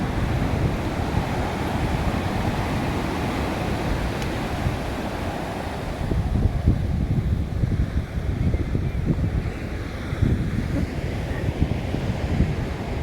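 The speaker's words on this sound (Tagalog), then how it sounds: "Ganda ng alon." Steady roar of surf rolling onto Dana Strands Beach, California, with rougher wind buffeting the microphone through the second half.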